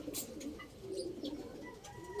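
A racing pigeon coos softly in low, rolling murmurs, with faint chirps from other birds higher up and a quiet outdoor hum behind.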